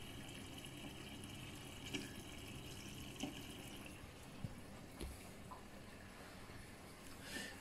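An older Miele professional washing machine takes in water during its fill stage, a steady faint rushing and trickling with occasional soft clicks and drips, heard alone without speech.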